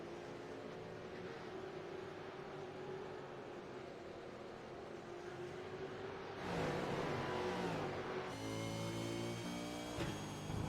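A pack of race cars roars past on a short-track oval broadcast, a steady engine drone swelling louder near the end as several cars close in and pass.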